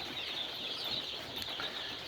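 Chicks of black chickens crowded in a brooder make a dense, continuous high-pitched cheeping and peeping, steady and fairly loud throughout with no talk.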